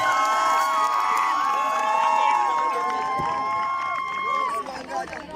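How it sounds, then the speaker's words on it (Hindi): Loud crowd of schoolchildren cheers and shouts for the winning house at a school closing ceremony, a dense, continuous roar with raised voices that holds steady for several seconds and eases slightly at the end. "जोरदार तालियां"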